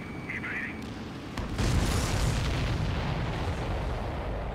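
A missile launches in Ace Combat 7, a sudden loud roaring whoosh that swells and sustains over jet engine noise, following a brief radio-style voice.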